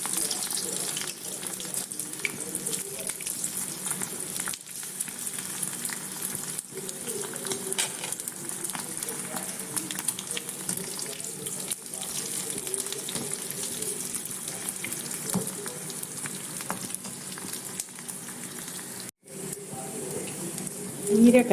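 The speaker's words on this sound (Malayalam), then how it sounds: "ഇതിട്ട് വറുത്തെടുക്കാം." Sun-dried buttermilk-soaked chillies (moru mulaku) fry in hot oil, giving a steady, even sizzling hiss that holds for the whole stretch, close and moderately loud, with no talking.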